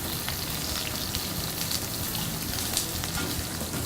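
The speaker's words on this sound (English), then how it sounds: "And then we sear them from one side to another one." Shrimp for scampi sear in a hot pan with a dense, loud, continuous sizzle and crackle that holds steady and close throughout.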